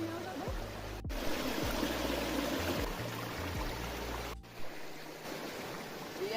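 Spring water flows at a hidden river site in Jamaica, a steady, close rushing and trickling wash with faint voices murmuring low underneath and a couple of sharp knocks.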